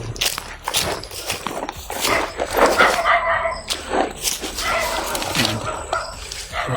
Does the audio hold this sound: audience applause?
no